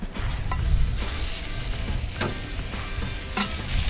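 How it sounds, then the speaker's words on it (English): Loud, steady sizzling and crackling of chicken wings searing in a hot cast iron pan, a dense frying hiss with occasional scraping clinks. "And now get ready for this sizzle."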